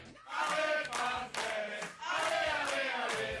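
Hundreds of fans in Conegliano celebrate a world volleyball victory with loud, sustained crowd cheering and chanting in swelling waves, heard from fairly close.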